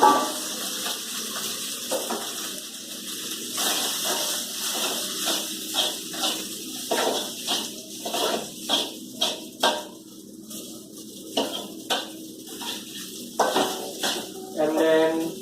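Rice for fried rice sizzles in a frying pan while a utensil repeatedly scrapes and clatters against it in an uneven rhythm, close and fairly loud.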